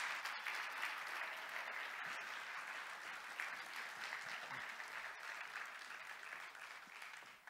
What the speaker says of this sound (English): Can you guys give her a round of applause?